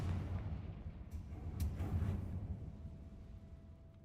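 Rumbling blasts and a couple of sharp bursts from a Confringo fire spell in the game Hogwarts Legacy, under continuous low game ambience with no talk.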